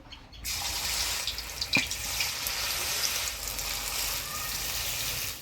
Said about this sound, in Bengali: এবার বড়াগুলো ভাজিয়ে নিব